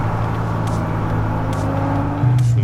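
A Ferrari 812 Superfast with a naturally aspirated V12 idles nearby, giving a steady, smooth, low droning hum that swells slightly louder near the end.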